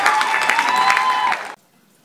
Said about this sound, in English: Clap your hands, ladies and gentlemen.